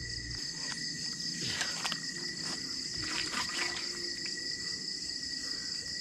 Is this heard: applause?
no